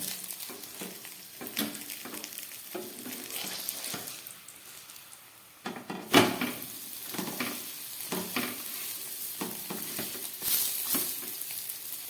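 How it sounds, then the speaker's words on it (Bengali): Fenugreek leaf parathas frying in oil in a pan, with a steady close sizzle broken by bursts of crackling and stirring or turning noises, one sharp louder flare near the middle; no talking. "এইভাবে আমি পরোটাগুলোকে ভেজে নিচ্ছি"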